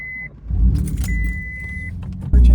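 A Mitsubishi 3000GT project car starts up inside the cabin, a steady tone chiming before the engine cranks and catches, settling into a rumbling idle that swells louder at the end.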